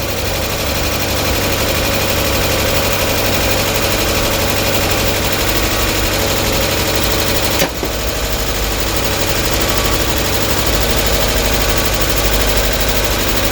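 A Mk1 Mazda MX-5 engine, not started for a long while, idles with a steady, rough drone at a constant level, a faint tick running through it and one brief hitch midway.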